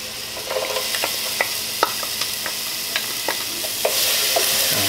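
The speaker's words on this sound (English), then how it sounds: "We're gonna add in the garlic. I hear that sizzle." Garlic and onion sizzling and frying in a pan, with occasional clinks and scrapes of stirring over the steady crackle; no voices.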